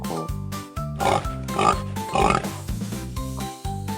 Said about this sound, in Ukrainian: Привела нам свинка щастя трьох маленьких поросят.